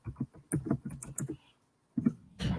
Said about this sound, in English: I'm typing so fast too.